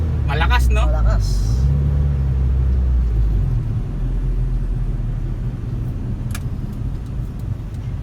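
A Honda Civic VTi with a VTEC engine and freshly adjusted valve clearance, automatic, accelerating on a road test: a loud, steady engine rumble heard from inside the car, with a brief higher tone near the start and voices talking over it.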